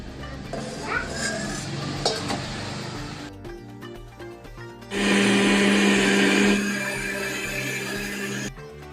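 A mixer grinder jar blends cooled mango pulp, first with clinking and rattling in the jar, then after a pause a loud, steady motor whir that runs for several seconds before stopping.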